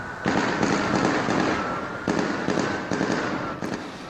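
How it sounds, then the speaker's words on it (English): Bursts of distant gunshots from a single gun echo across a lighted parking lot under an interstate at night, sharp cracks landing irregularly over a steady roar of traffic. "The woman heard one burst of gunshots, started shooting video, and captured another burst."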